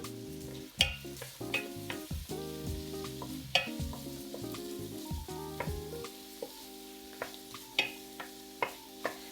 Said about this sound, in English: We'll let these onions cook until they soften.